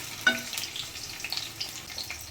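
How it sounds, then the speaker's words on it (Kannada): Small pieces of onion hit hot oil in a pan while crab masala is being cooked. A sharp sizzle jumps up at once and settles into steady crackling frying, with soft stirring noises and no talking. "ಚಿಕ್ಕದೊಂದು ಈರುಳ್ಳಿ ಹಾಕ್ತಾಯಿದ್ದೀನಿ ಫ್ರೈ ಮಾಡೋಕ್ಕೆ"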